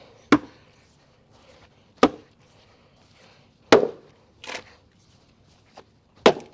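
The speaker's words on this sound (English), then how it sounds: "I could just listen to wood splitting for 10 hours." Sharp, loud wooden cracks of a big vintage axe striking and splitting pin oak firewood, five blows spaced irregularly with quiet outdoor ambience between, no talking.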